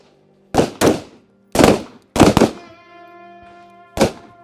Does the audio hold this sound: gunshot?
yes